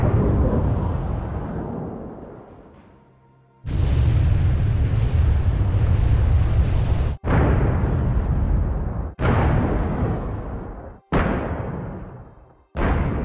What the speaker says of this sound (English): So this is the classic collapsing building sound that I was using in the Godzilla mod for a long time.